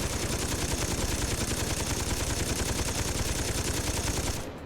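Rapid automatic gunfire from the Saints Row video game rattles in a steady, unbroken stream of close, evenly spaced shots, then cuts off abruptly at the very end.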